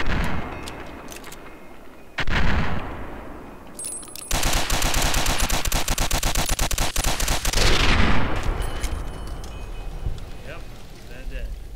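Gunfire in the video game Fallout New Vegas, with a short burst around two seconds followed by a sustained rapid volley of shots for several seconds before it fades into ambient game sound.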